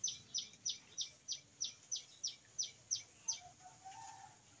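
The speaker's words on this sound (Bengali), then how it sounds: "এইদিকে হইলো পাখির যে কলরব, পাখির আওয়াজ" Birds chirp outdoors among flowering plants, a steady series of about a dozen short, evenly spaced high chirps that are faint and somewhat distant, then fading into quiet background hiss.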